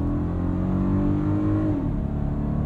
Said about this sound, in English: V6 sounds nice though.